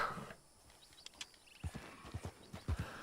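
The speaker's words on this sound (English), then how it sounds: "As you can see, I am riding a horse right now." Horse hooves clip-clop in the Red Dead Redemption 2 video game, a faint quiet passage giving way to a run of soft, evenly spaced hoof beats in the second half.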